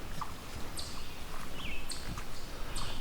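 Chipmunks calling in a wooded setting: a few faint, sharp high chirps spaced roughly a second apart, with a soft low knock near the start over a steady outdoor background hush.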